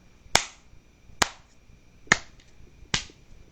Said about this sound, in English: I will keep clapping